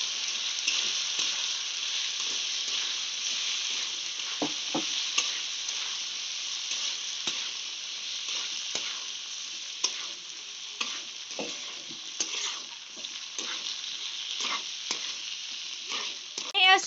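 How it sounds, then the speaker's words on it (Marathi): Barnyard millet and potatoes roast in oil for fasting-style vari rice, with a steady soft frying hiss and frequent light scrapes and taps of a spoon stirring, moderately close and fairly quiet, with no speech. "आता आपण बटाट्या बरोबर वरी ही भाजून घेऊयात, त्यामध्ये आपण वरी घालूयात।"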